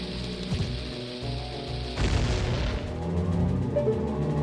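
Bomb explosion in the Ocarina of Time video game, Shadow Temple: a sharp blast partway through bursts over ongoing game music and ambience, followed by rumbling tonal effects, no voices.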